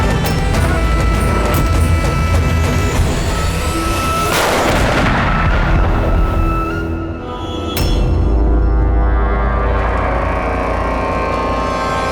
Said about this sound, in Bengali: উত্তর দাও, নয়তো গুলি করে দেব